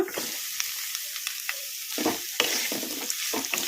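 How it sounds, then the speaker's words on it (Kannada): Chopped onion frying with green chilli and curry leaves in a pan for leftover dosa-batter paddu, a steady close sizzle broken by repeated scraping stirs, with no talking. "ಉಳ್ಳಾಗಡ್ಡಿ ಈಗ ಇವನ್ನು ಹಾಕೋಣ"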